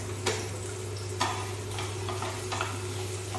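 Garlic gently frying in a pan for chutney, a soft steady sizzle with a few light clinks of a utensil against the pan at intervals.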